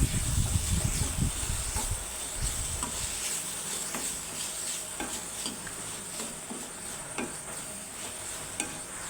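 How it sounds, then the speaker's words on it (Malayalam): Onions and tomatoes are sautéed in a pan, with a soft steady sizzle and repeated scraping stirs close by. Heavier clattering comes at the start, then the hiss settles under faint background sound. "തക്കാളിയും കൂടി ഒന്ന് നന്നായിട്ട് വഴറ്റി കൊടുക്കണം"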